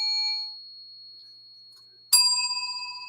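A bell rings with a pure sustained tone that slowly fades, then a second bell is struck sharply and rings out loud with a bright, shimmering decay.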